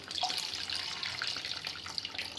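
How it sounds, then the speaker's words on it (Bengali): Homemade coconut milk poured slowly into a Bengali prawn malai curry, a steady close liquid trickle and splash running without pause, with no talking. "এর মধ্যে আমি যে নারকেলের দুধটা বানিয়ে রেখেছিলাম সেটা আস্তে আস্তে এর মধ্যে দিতে থাকবো"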